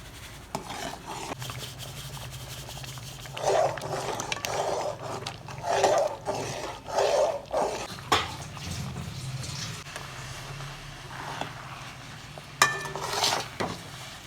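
Roasted semolina is stirred into tomato upma in a pan, making a steady scraping and rubbing with rhythmic swells, over a low background hum.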